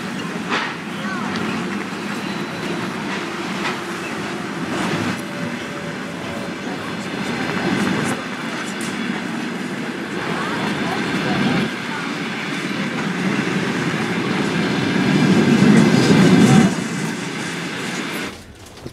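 Passenger train No. 360 riding the rails through Belarus and Lithuania, heard from inside an older open-plan sleeper car as a loud, continuous rumble with rattling and faint clicking of wheels, swelling toward the end.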